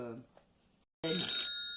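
A mobile phone rings suddenly after a brief pause in a woman's speech, a bright, close electronic ringtone with sustained tonal chimes that fills the last moments loudly.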